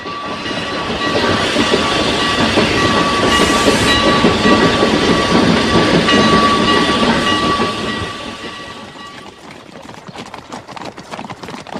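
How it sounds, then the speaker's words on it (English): A train rolls along the rails with a loud, steady rumble and clatter, then fades into rhythmic clicking of wheels over track joints as it passes, with no voices. "Tomorrow, on the 11 o'clock train."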